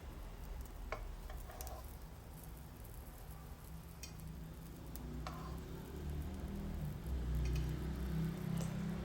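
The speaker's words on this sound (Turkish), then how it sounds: "Bu şekilde kızartmaya devam ediyorum" Quiet, steady sizzling of bread frying in a pan, with occasional light clicks and taps of utensils.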